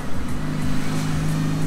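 A stream of cars passes along a busy street in Sonsonate, with a close engine drone and repeated sweeping swooshes as vehicles go by one after another, over steady low traffic rumble.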